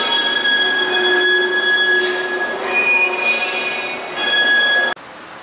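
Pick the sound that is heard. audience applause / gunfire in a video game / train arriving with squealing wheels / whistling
train arriving with squealing wheels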